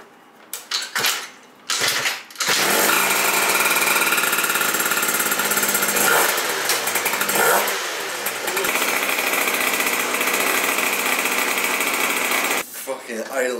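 A Phantom F12 motorized bicycle engine with an idle set too high, a few short revs before it settles into a loud, steady high-pitched buzzing run close by, with a voice briefly audible at the start.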